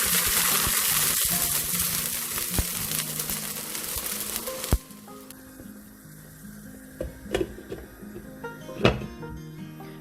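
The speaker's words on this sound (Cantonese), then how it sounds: "加熱水，" Hot water hits a pot of fried pork ribs, with a loud hissing sizzle at first that fades to a quieter bubbling, broken by a few sharp knocks and clatters.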